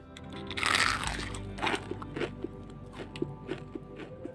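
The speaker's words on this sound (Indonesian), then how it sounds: "sangat crispy, kriuk di luar dan lembut di dalam" Crunchy bites into a crispy fried sausage snack dipped in sauce, one loud crackling crunch followed by several quieter crisp chewing crunches, close up with no talking.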